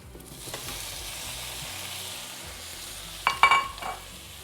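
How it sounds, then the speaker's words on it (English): Onions and garlic sizzle steadily in a hot pan, a soft continuous frying hiss with a few brighter clinks and stirring sounds near the end. "Let that pan sizzle."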